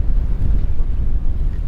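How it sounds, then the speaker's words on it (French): Gusty wind of over 30 knots on a sailboat, roaring steadily and buffeting the microphone with deep rumble, with no voices. "Il y a un peu de vent, ça rafale un peu aujourd'hui."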